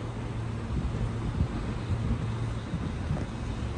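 Wind buffets and rushes across a car park hung with thousands of small swaying card pieces, a steady broadband roar with gusty swells and low rumble, no voices.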